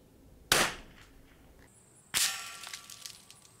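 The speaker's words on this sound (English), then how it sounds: "So that's three impacts on the barrel." Two sharp .22LR rifle reports at a range, about one and a half seconds apart, each cracking loudly with a short ringing tail, the second followed by faint metallic impact ticks as rounds strike a rifle barrel target.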